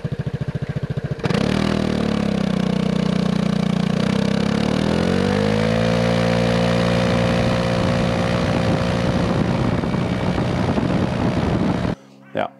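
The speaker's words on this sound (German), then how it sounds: "Man macht das Ding an und hat sofort diesen klassischen Vespa GTS Sound Feeling" Vespa GTS 250 ie scooter with a sport exhaust started and idling close by, a steady loud engine drone that rises in pitch as it is revved, then cuts off abruptly near the end.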